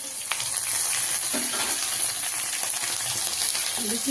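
Green chilies frying in a pan, a steady close sizzle with scattered small pops and clinks of utensils throughout.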